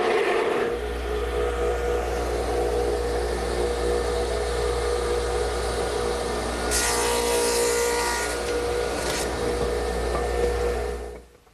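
A radial arm saw swung to 7.5 degrees hums steadily in a woodworking shop, then bites into the wood to cut a tenon, a brief harsher whine of cutting before the motor winds down at the end.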